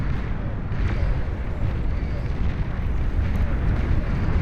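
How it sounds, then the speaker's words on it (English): Catapults in the strategy game Beyond All Reason fire and explode across a wide area during an 8v8 battle, creating a dense, continuous, booming rumble of overlapping blasts with no clear gaps. "catapults firing away and doing so much damage in a big area right here to all these red units"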